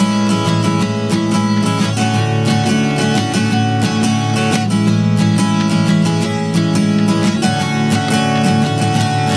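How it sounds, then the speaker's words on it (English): Recorded acoustic guitar strumming as part of a produced beat, steady rhythmic strums layered over sustained chords, loud and continuous with no voices. "So yeah, that's the strumming,"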